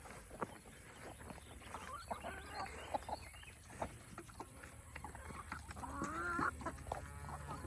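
Hens clucking and murmuring softly in a steady outdoor backdrop, with scattered short calls and a louder squawk near the end.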